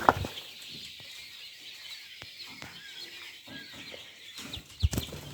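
Soft clucking and chirping of small caged quail against a steady hiss, with a few faint rustles and a sharper knock near the end.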